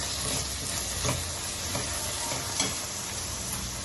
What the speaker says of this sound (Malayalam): ഇതുകൂടെ നന്നായിട്ട് വഴറ്റിയെടുക്കാം